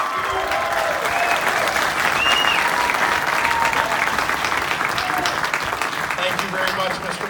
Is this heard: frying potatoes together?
no